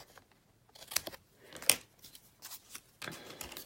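Scissors trimming the borders of a handmade card, several short crisp snips and paper rustles at close range, quiet and spaced irregularly.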